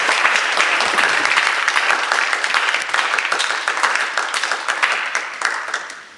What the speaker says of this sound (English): I want to just do another round of applause for all the speakers and thank them for taking the time